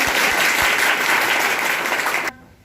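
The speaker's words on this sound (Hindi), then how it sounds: "बहुत जोरदार तालियां से स्वागत करें" An audience at a teachers' training camp claps loudly to welcome an MLA, a dense burst of applause that holds steady, then stops abruptly.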